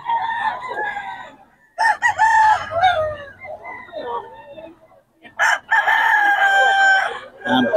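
Roosters crow loudly and close by, with several overlapping cock-a-doodle-doo calls and chickens clucking between them, among gamefowl for sale in Bocaue.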